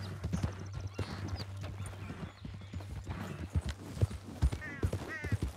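Steady hoofbeats of a horse clip-clopping along in Red Dead Redemption 2, fairly close, with a brief whinny-like squeal near the end and a low background hum.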